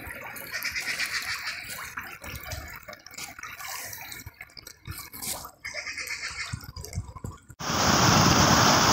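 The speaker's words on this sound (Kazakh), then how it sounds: "Су ағып кетіп жатыр бұлай қарап" Floodwater runs steadily past a house during flooding in Turkistan region, a continuous trickling and splashing flow that ends in a louder, broadband gush of rushing water.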